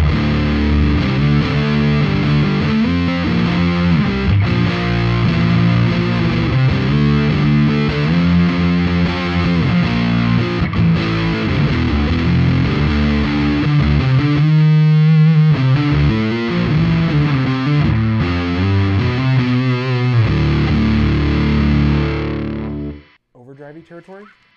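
A Stratocaster electric guitar played through a Fuzzsimp FX Fuzzsimp 2 fuzz pedal set to deep mode, giving thick, saturated distorted chords and riffs that ring loudly and continuously before cutting off abruptly at the end.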